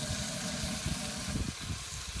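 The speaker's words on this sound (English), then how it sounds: "You can hear that sizzling." Steady hissing sizzle of a bao stir fry frying in a hot wok over flames, continuous and close, with occasional clanks and stirring noises.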